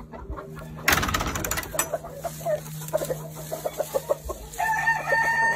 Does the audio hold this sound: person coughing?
no